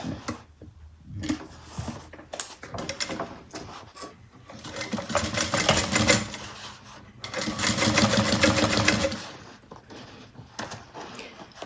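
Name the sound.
sewing machine sewing a bag seam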